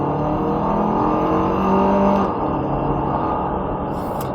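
A 2023 Toyota Kluger GXL AWD with a 2.4 litre turbo petrol engine pulls away from about 40 km/h, its engine note rising smoothly from inside the cabin, then easing off, with no talk.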